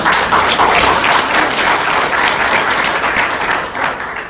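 Sustained audience applause at a talk about museums, a dense, steady wash of many hands clapping together, fairly loud and even throughout with no voices over it.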